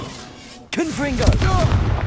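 A Confringo fire spell explodes in Hogwarts Legacy with a sudden loud boom that cuts in sharply and is followed by crackling gunfire-like bursts, while a voice shouts over the blast.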